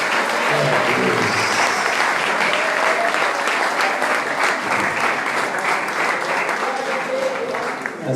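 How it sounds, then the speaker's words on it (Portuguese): A church congregation breaks into sustained applause, dense and loud clapping from many hands filling the room without pause for the whole stretch. "Você pode aplaudir essa água, esse Espírito Santo."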